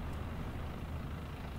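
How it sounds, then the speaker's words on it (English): Tank engine in War Thunder, a steady low rumbling drone holding at an even level throughout, with no talk over it. "I hear a tank."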